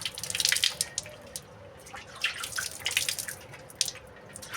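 Tap water splashing into a sink while someone washes their face, a soft, close patter of drips and gushes that rises and falls in uneven bursts against a quiet background.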